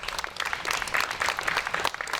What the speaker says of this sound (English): Yes, go ahead, and round of applause.